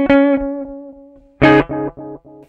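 Electric guitar through the echo setting of an Ammoon Pockrock processor: a ringing chord dies away under fading repeats, then a hard strum comes back in a string of decaying echoes, close and clear.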